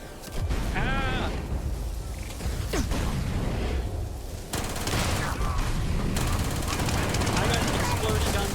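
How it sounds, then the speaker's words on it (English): Weapon fire and clattering explosive gun effects from the modded Shattered Space video game ring out in dense bursts, with a player's voice talking over the loud chaotic action. "You all got exploding guns."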